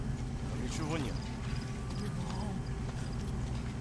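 Horse hooves clip-clopping in Metal Gear Solid V, the horse wearing DLC armor, a steady galloping patter under continuous game music and ambience, with a brief whinny-like sweep near the start.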